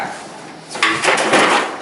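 Drawers of a storage box sliding open or shut, heard as a short burst of close, clattering knocks and scrapes after a brief quiet moment.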